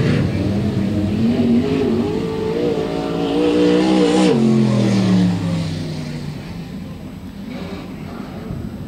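Pro sprint cars in a 25-lap feature race on a track roar past together, engines revving and droning loudly with a pitch sweep as a pack goes by, the noise steady and close throughout.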